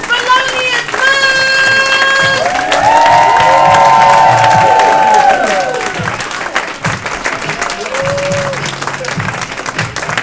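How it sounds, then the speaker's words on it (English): An audience claps and cheers for a comedian at the Lincoln Lodge comedy club, with dense, loud applause, whoops and shouts throughout, a host's voice over the top, and the noise thinning toward the end. "Start clapping right now"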